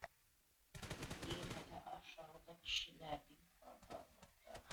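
Rapid automatic gunfire bursts from PUBG Mobile gameplay, sharp repeated cracks from about 0.7 s on, mixed with excited talking throughout.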